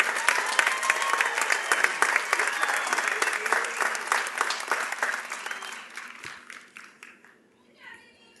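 Applause from a commencement ceremony audience at Madera Community College, dense clapping at steady volume that thins and fades out near the end.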